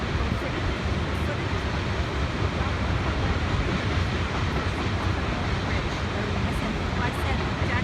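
A train passing on a railway line near David Thompson, British Columbia, producing a loud, continuous broadband roar and low rumble that stays steady and close throughout.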